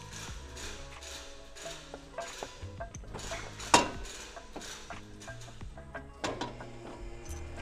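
Metal parts of a big brake caliper kit clink and clatter while being handled during installation, a series of light knocks and scrapes with one sharper metallic clank midway and another near the end, close by with no talk.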